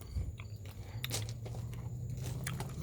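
Close, soft chewing of a ripe Adriatic fig, with moist squelching bites and occasional small crunches of seeds, alone without talk.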